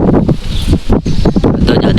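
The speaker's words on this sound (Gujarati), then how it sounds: "અને પવન બહુ હે જ" Strong wind blows at a hilltop temple, roaring and buffeting the microphone in uneven gusts, loud and close throughout the short stretch.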